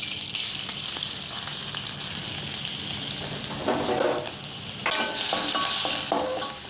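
Oil sizzles steadily in a pan as chopped ginger is stirred and fried, with scraping touches partway through and no talking.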